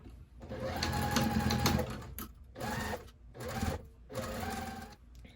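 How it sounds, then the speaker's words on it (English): A sewing machine stitches fabric at a quarter-inch seam allowance for a scrap fabric bin, running in several close, steady bursts separated by brief pauses. "we're gonna sew both of those also at a 1/4 inch seam allowance"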